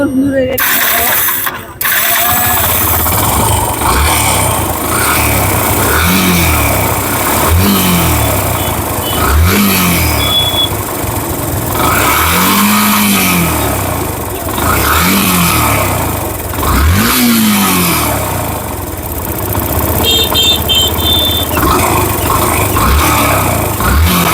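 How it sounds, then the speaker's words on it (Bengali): A Yamaha Fazer version 2 motorcycle, damaged in an accident, has its engine revved up close by, with several loud rising and falling surges over a steady idle and some mechanical clatter. "এই তো বাইকটার সাউন্ড শুনলেন"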